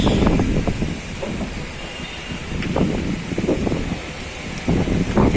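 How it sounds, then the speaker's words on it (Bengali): Strong wind from Cyclone Remal gusts through coconut trees in Dhaka, a rough, buffeting roar with rustling surges that rise and fall. "কি পরিমাণে বাতাসের ঝাপটানি।"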